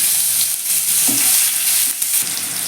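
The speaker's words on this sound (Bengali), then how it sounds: "পেঁয়াজটাকে আমি একটু হালকা বাদামি করে ভেজে নেব" Finely chopped medium onion fries in hot oil tempered with black cumin, a loud, constant close sizzle broken by occasional stirring scrapes, with no voices.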